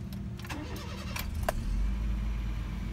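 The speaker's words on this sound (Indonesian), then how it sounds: "Suara mesinnya halus ya, 1500 cc 4 silinder" A 2008 Honda City GD8 VTEC with a 1500 cc four-cylinder engine cranks briefly and catches, settling into a smooth, steady low idle heard close up.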